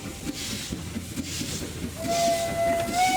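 A steam locomotive in a mobile train racing game chuffs in a quick, regular rhythm, then a sustained steam whistle joins in and holds over the chugging to the end.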